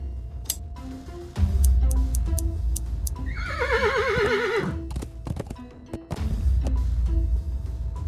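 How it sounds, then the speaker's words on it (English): A horse in a video game lets out a loud, wavering whinny as hair is pulled from its tail, set against steady hoof clip-clops and light ambient background tones. "Being very careful, I should be able to take what I need. Easy, horsey."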